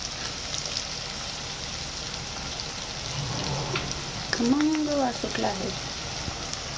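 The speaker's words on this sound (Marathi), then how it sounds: "आणि कांद्याला व्यवस्थित भाजून घ्या।" Onions frying in a pan for egg biryani, a soft, steady sizzle that continues throughout, with a brief voice-like tonal sound rising over it near the middle.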